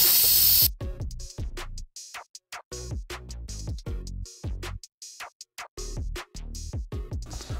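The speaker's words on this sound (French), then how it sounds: "On va faire donc le quick release." An Instant Pot pressure cooker on quick release lets out a short, loud burst of venting steam hiss that fades quickly. Rhythmic background music with sharp percussive beats follows.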